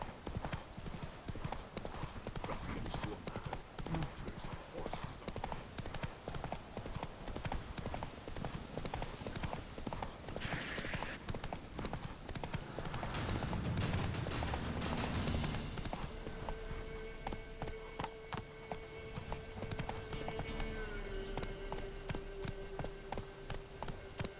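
Horse hooves clip-clop rhythmically and steadily in The Witcher 3, a continuous close trot of hoofbeats with ambient game sound layered underneath throughout.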